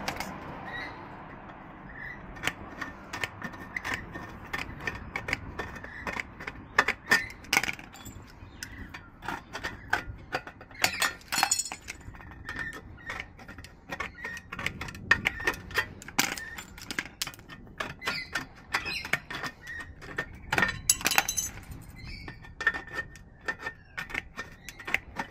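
Metal trunking being cut roughly for a 90 degree bend, heard as a steady run of close, scraping, clicking cuts with sharp metallic snaps throughout, no talking.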